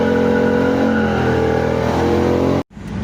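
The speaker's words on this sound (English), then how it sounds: "Two-step noises." A loud, close car engine held at high revs on an MSD two-step rev limiter for launch control, droning steadily, then briefly cutting out before roaring back.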